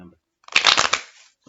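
A deck of playing cards is riffled in one quick burst lasting about a second, crisp and close, with brief talk just before and after.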